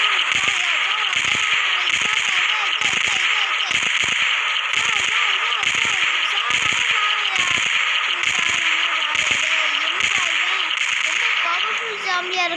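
Gunfire during a Minecraft zombie attack comes as a regular string of sharp, cracking shots about once a second, steady and loud over continuous excited talking.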